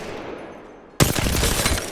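Video game R-301 rifle firing at a training dummy: quiet room tone for a second, then a sudden loud burst of rapid automatic gunfire that continues to the end.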